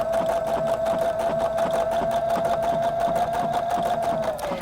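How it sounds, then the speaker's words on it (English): A Husqvarna Viking Designer Brilliance 80 sewing machine stitches down the side of an applique, a steady, close, continuous motor whir with a rapid even needle rhythm throughout, slowing slightly at the very end. "So I'm going to go ahead and stitch down the side of this applique."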